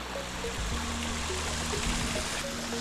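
Crowden Great Brook, a moorland stream below Black Hill in the High Peaks, flows in a constant close rushing wash, with no voices.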